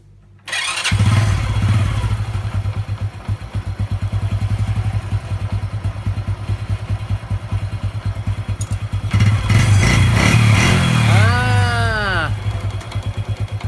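Old Honda Revo 110 motorcycle engine starting, then idling with a steady thumping putter before being revved hard and released, its pitch rising and falling, with talk under it.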